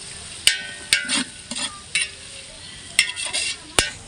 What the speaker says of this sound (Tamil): இப்போ வெங்காயம் வதங்கிக்கிட்டு இருக்கு.